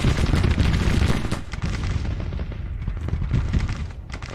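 Battle din from the video game Grand Tactician: The Civil War: dense, overlapping musket volleys and booming artillery fire, loud and continuous with sharp cracks throughout and no voices.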